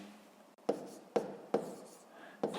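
Pen strokes writing numbers on paper while working a fifth-grade column addition of decimals, four or five short sharp scratching taps spaced irregularly, close and fairly quiet, with no voice.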